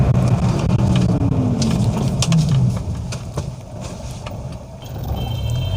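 A car slowing from 60 km/h under braking, with loud road and engine rumble that eases off partway through as speed drops, plus faint beeping tones in the background.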